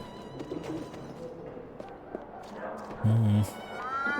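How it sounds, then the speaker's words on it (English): A cat in the game Alice: Madness Returns gives a short, loud meow near the end, set against a busy market ambience with cooing birds and soft background chatter. "Kitty!"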